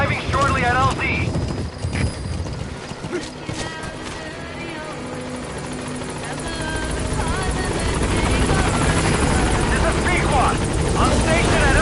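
A helicopter in Metal Gear Solid V arrives at a landing zone, its rotor chop loud and steady throughout and swelling nearer toward the end, with voices talking over it.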